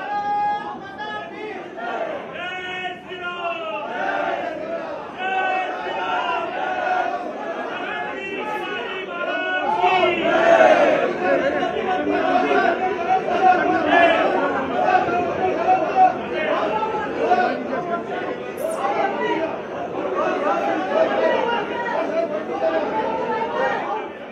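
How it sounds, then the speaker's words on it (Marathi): Party supporters in the state legislature complex chant slogans and cheer an election win, a dense crowd roar that holds steady and grows louder about halfway through, with voices blending together. "त्यांच्याकडून घोषणाबाजी केली जाते आणि विजयी जल्लोष करत विक्ट्रीचं साईन दाखवताना ते दिसून येत आहे।"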